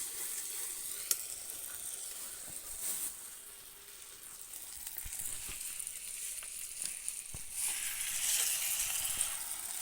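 Chicken pieces fry in a pan at a night-time outdoor feast, giving a steady broadband sizzle with occasional stirring clatters, close and continuous with no talking.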